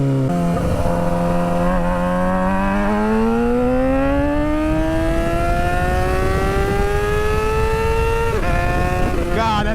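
A car exhaust revving hard, the engine note climbing steadily in pitch for several seconds, loud and close, with a brief dip and re-rev near the end.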